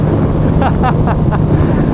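Honda CB650R motorcycle with an Akrapovic full-system exhaust and the silencer removed, cruising in sixth gear: a steady, low engine drone buried under heavy, constant wind rush.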